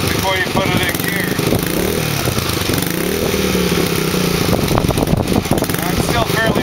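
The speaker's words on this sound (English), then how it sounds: "And let it warm up a little longer, probably a good minute anyhow." A 125cc dirt bike engine idles on half choke while warming up, a steady, loud mechanical drone that runs continuously from start to finish with a voice talking over it.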